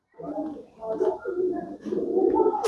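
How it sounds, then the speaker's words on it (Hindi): Soft, throaty pigeon cooing in a few rolling phrases, close by, with a low murmur of background noise. "सबसे बेस्ट और सबसे अच्छा कबूतर ये है"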